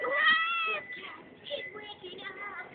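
A female house cat in heat meows loudly and drawn-out at close range, then gives quieter, shorter cries.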